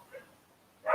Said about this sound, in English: Sorry for the dogs that have been around.